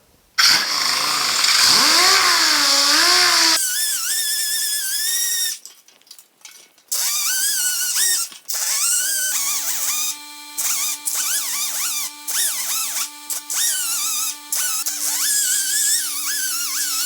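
Dual-action sander smoothing body filler on a 1950 Chevy truck, running loud and close with a steady whine that starts, stops and restarts several times, changing pitch as pressure shifts.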